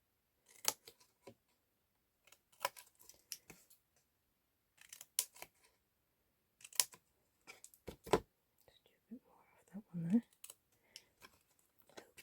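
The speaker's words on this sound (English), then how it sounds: "you want to cut straight up, and then in the corner square," Scissors cut the corners of a clear PET acetate sheet for a gift box, giving a series of crisp, close snips in separated bursts, with a brief, muffled rustle near the end.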